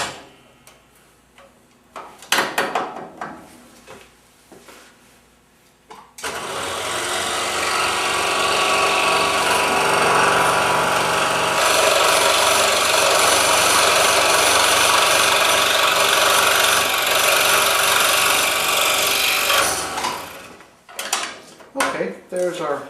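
A scroll saw fitted with a number 7 blade cuts out the interior of a wooden bow piece, a loud sustained buzzing rasp running for about fourteen seconds between short bursts of handling and clatter.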